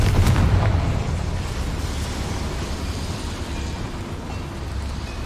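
A fiery Confringo spell blast in the game Hogwarts Legacy erupts as a loud, booming burst at the start, then trails into a dense rumbling roar that fades slowly without fully dying away.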